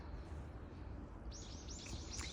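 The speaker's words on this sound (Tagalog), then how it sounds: "sana naririnig niyo po ang mga huni ng ibon" Several quick, high chirps from birds ring out in a short burst in an autumn forest in Japan, over a steady low rumble of outdoor background noise.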